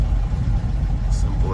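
Alfa Romeo race car engine, jetted and dyno tuned with a race-built motor, running with a loud, deep, rough rumble close by for a brief moment.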